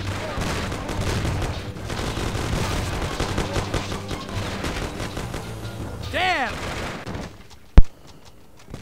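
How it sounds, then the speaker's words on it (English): Shotgun gunfire in the Mafia game, a dense barrage of blasts over several seconds with chaotic overlapping shots, a whooshing effect, then one sharp loud blast before quiet. "Those are some fucking long-ass range shotguns"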